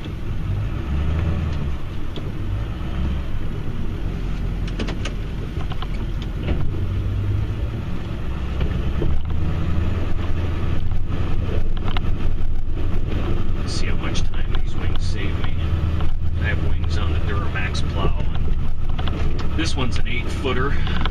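A four-wheel-drive pickup truck fitted with snowplow wings works through snow, its engine droning and rumbling steadily close by, swelling louder partway through, while people talk over it.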